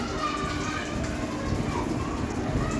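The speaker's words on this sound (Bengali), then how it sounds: "ওর জন্য তাড়াতাড়ি করে মাছটা ভেজে দিচ্ছি" Fish, rui and puti, sizzling in hot oil in a pan, a dense steady crackle and spatter close by that holds at an even level throughout.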